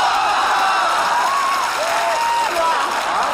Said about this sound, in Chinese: 此地有雷鸣般的掌声。